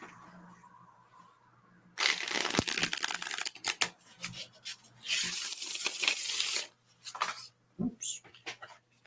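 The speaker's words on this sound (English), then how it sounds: "I'm going to give these a wee riffle shuffle." A deck of playing cards being riffle shuffled, with sharp fluttering bursts of card edges snapping together in several quick runs, close and crisp, separated by quieter handling pauses.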